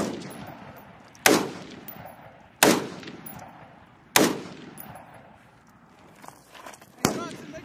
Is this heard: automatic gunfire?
yes